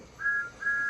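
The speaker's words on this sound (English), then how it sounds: "Then he heard a whistle." A steam engine whistle from Thomas the Tank Engine, two clear steady tones sounding in short succession, moderately loud against a quiet background with no talk.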